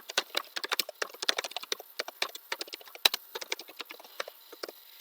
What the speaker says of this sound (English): I'm going to type it here so you can see it.